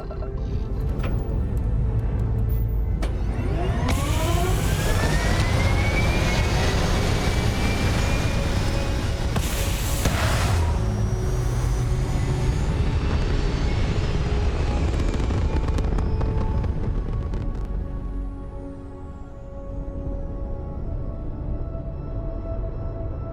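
A spaceship lifts off in the game Starfield, a loud sustained roar of engines with rising whine swelling over about fifteen seconds, then easing into a lower rumble near the end.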